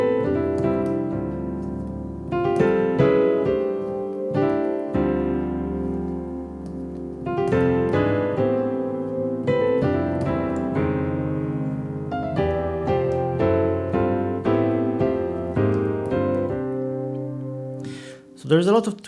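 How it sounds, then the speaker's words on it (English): Fusion jazz keyboard passage of rich sustained chords and melodic runs, with a steady flowing rhythm that stays even and full throughout before briefly breaking off at the end. "the second part of this piece, sounds like this."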